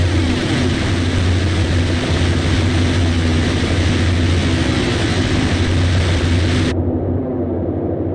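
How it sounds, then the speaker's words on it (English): Boeing 247 radial propeller engines in a flight simulator game drone loudly and continuously during the climb after takeoff, a thick, even roar that dulls slightly near the end. "These radial engines sound so good"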